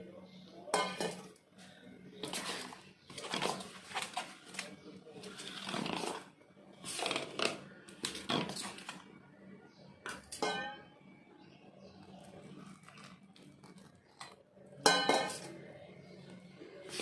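Boiling water is stirred little by little into rice flour for idiyappam, with intermittent spoon clinks and scraping against a vessel in close, uneven bursts, and a voice speaking at times.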